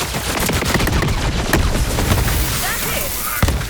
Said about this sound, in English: My favourite shotgun is basically a mini BFG